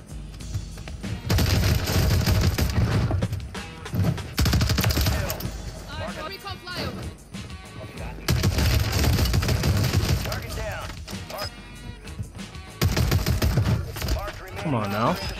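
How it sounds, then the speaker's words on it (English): The Riveter fire shotgun in Call of Duty Modern Warfare 3 fires in rapid automatic bursts, loud and punchy, separated by brief pauses, with game sounds between the volleys. "It's the new broken Riveter fire shotgun, and let me tell you, it's insane"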